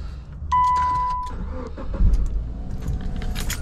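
A 2011 Subaru engine cranks and catches, rumbling steadily at idle after a brief tone and some jangling of keys; no one speaks.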